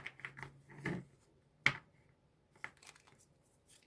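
Tarot cards are shuffled in a quiet room, a handful of faint, sharp riffles and taps with brief pauses between them, close and soft.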